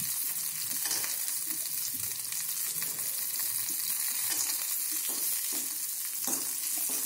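Curry leaves and peanuts fry in a pan while poha is being made, giving a steady, close sizzle with light crackles throughout and no voices.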